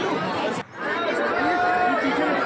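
Dense crowd of devotees at the Maa Sharda temple in Maihar, a steady murmur of many overlapping voices filling the space, with one brief dip partway through before the chatter swells again.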